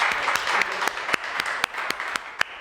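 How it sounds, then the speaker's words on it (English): Audience applause at a talk, a steady wash of clapping with several sharp, distinct near claps standing out at irregular moments. "So let's just clap it up for you."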